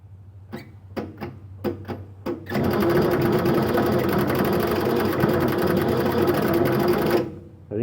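An old forklift engine cranks with a few short separate bursts, then catches and runs with a loud, steady, rough chugging for several seconds before cutting off.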